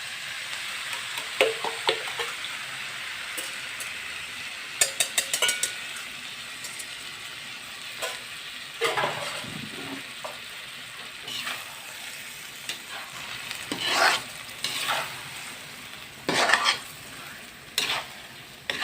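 An egg frying in a pan hisses steadily while a utensil stirs and scrapes it, with sharp clinks and taps against the pan at irregular intervals, close and clear, with no voices.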